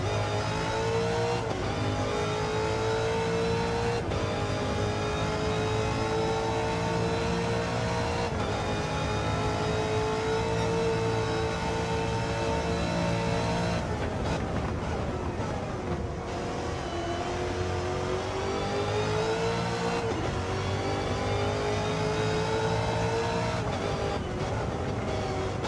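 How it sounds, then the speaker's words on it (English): Dodge Demon race car in a racing video game revving hard as it climbs the mountain at Mt Panorama, Bathurst, engine note rising through repeated gear changes in a loud, continuous drone. "have a listen to this Dodge Demon wind itself up the mountain"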